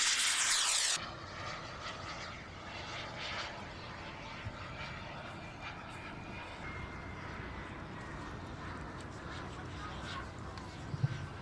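A radio-control A4 model jet at an air show makes a low pass, its steady engine roar and rush held at moderate distance for several seconds while an announcer talks over a public address system.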